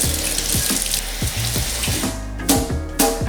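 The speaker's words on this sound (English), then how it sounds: "To begin, wash the veggies." Tap water runs steadily into a sink while coriander and other vegetables are rinsed, with a rushing flow broken by repeated splashing and handling clatter, close and fairly loud.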